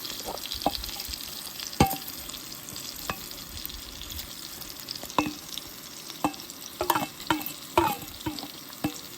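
Ribeye steak and garlic frying in a pan at a Death Valley campsite, a steady soft sizzle broken by intermittent scrapes and clicks of stirring, close and without talk.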